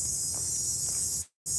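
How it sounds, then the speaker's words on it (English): Summer cicadas drone steadily and loudly as a dense, continuous high buzz that cuts out abruptly for a moment near the end before resuming. "Man, those cicadas are really awesome."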